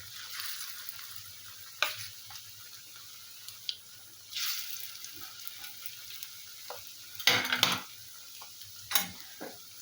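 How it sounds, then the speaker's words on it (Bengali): Cauliflower pakoras coated in spiced lentil batter deep-frying in oil, a steady soft sizzle broken by scattered scrapes and clinks of a utensil against the pan, with no talking. "এইভাবে আস্তে আস্তে করে এটা ভাজতে থাকবো"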